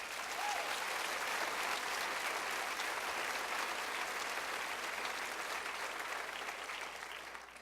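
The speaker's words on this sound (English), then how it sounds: "I got a laugh and applause" Sustained applause fills a large hall at a women's awards gala in Toronto, a dense even clatter of many hands lasting several seconds before slowly tapering off.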